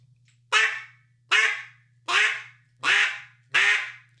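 A duck call blown for practice gives five loud, evenly spaced raspy quacks, close up, with a faint steady hum underneath.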